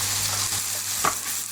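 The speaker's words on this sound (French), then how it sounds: "Hop, on met dessus et on va faire revenir tout ça." Fresh wild porcini mushrooms sauté in a pan, giving a steady close sizzle and a brief stir or scrape partway through.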